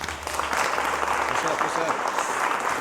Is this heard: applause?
yes